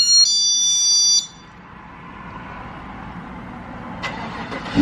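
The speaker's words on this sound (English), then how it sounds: "So let me start the car." A Chevrolet with a Corsa Sport exhaust starts up: an engine catches and settles into a steady idle rumble. A high electronic chime or beep plays over the first second, and a couple of brief clicks sound near the end.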